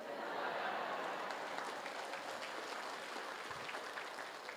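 Applause from a church audience during a family memorial talk, a broad steady wash of clapping held at an even level throughout, slightly distant, with a faint voice underneath.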